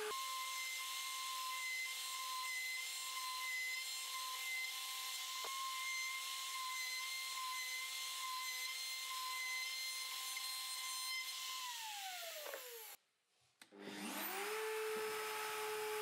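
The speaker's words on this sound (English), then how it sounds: "I'll use my 3D router to machine the adjustment grooves" A 3D router fitted with a 6mm bit mills a through groove in wood, a steady high-pitched machining whine with a constant motor tone that holds for about twelve seconds, then winds down briefly before starting up again.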